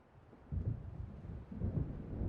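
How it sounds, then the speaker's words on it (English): Low rolling thunder from an approaching storm in the game Alan Wake rumbles in two swelling waves, deep and steady, with no voices over it. "It seems there's a storm coming."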